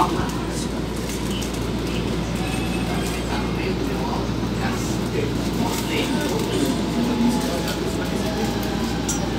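Electric multiple-unit train of CPTM Line 12 Safira running between Brás and Tatuapé, heard from inside as a steady, continuous rumble with constant low hum throughout, alongside faint bird-like chirps.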